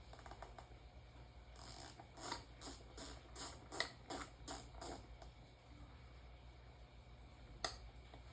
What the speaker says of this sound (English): I have my ratcheting wrench right here